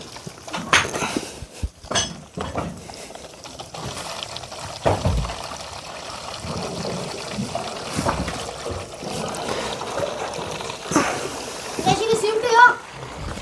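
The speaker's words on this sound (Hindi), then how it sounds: "अब हम यहाँ से पानी रिलीज़ करते हैं।" Water released from a steamer machine splashes and gurgles amid metallic clanks and knocks, fairly close and moderately loud, while someone talks over it in Hindi.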